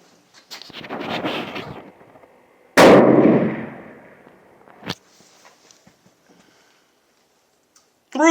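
.300 PRC rifle firing a Berger 210-grain bullet: one sharp, loud, close shot with a decaying boom, set among handling noises and clicks before and after.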